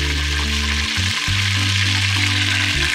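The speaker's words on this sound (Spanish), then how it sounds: "Mientras vamos friendo el pescado, vamos también probando la comida" Fish frying in a pan, a steady loud sizzle and crackle of hot oil with a low hum underneath, close and continuous, no talk.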